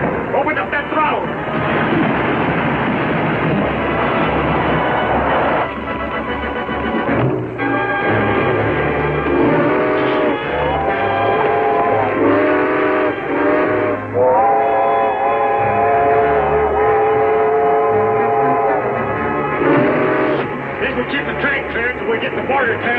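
An old steam train rushes along its rails through a tunnel in a 1941 film serial, rumbling loud and continuous, with repeated shrill whistle blasts and dramatic music over the top.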